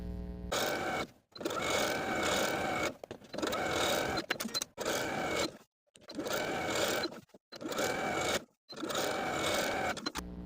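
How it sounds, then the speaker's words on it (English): A sewing machine runs in steady bursts of stitching, zigzagging close to the raw edges of fabric shorts hems, with short pauses between the runs. "Then I'll zigzag stitch close to those raw edges all the way around."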